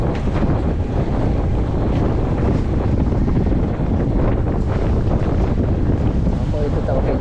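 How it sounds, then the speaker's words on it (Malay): Strong wind roars steadily over a fishing boat at sea off Batu Putih, a constant loud rush of buffeting and water noise with no breaks. "Angin kuat weh."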